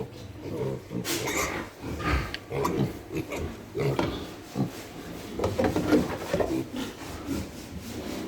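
Piglets grunting near a farmyard, a busy run of short snuffly grunts and squeals with wooden knocks and rustling, moderately loud and continuous throughout.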